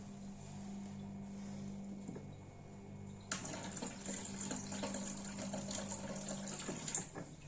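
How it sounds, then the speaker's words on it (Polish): Water is poured in after a quiet moment, a steady splashing trickle that keeps running for several seconds at close range. "i wleję tutaj wody trochę"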